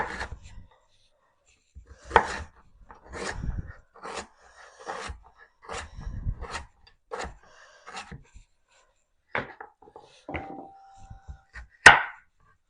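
Vegetables being cut for a beef stew on a cutting board, a series of separate close knife thunks at an uneven pace, with quiet gaps between strokes and a sharper final knock.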